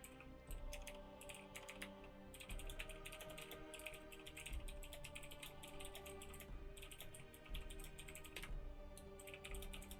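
Rapid clicking keystrokes on a computer keyboard come in quick bursts with brief pauses, close and fairly quiet, with no voices.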